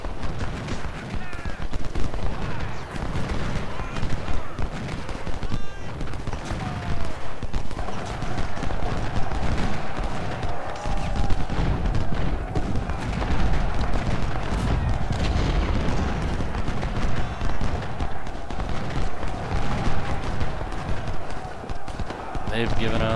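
Dense battlefield din from a Civil War strategy game: howitzer artillery booms and rattling gunfire roll continuously under steady voice commentary, with hoofbeat-like clatter mixed into the constant loud wash.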